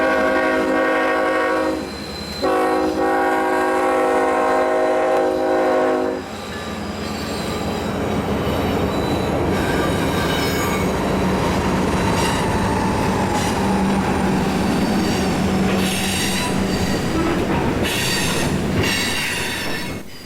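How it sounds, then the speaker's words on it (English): Freight train 36T with a pair of Union Pacific locomotives passes close by, opening with loud sustained horn blasts, then a long roar of wagons, wheel squeals and rhythmic clatter. "only a few minutes had passed before the first train of the day appeared"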